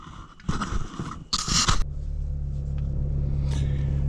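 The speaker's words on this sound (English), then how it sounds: "we're in the Audi. Well, we're headed to the auto parts store" Inside an Audi on the road, a steady low cabin rumble settles in after a few loud handling bursts of scraping and crunching, with the drive noise continuing evenly to the end.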